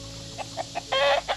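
Chickens cluck behind a fence in a short run of soft separate clucks, then a longer, louder squawking cackle and one more cluck near the end, fairly close with no talk.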